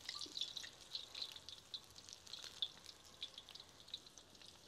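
Palak chicken pakoda, spinach and gram-flour fritters, deep-fry over low heat on a wood-fired stove, giving a faint, continuous crackling sizzle of bubbling oil with fine popping and no talk.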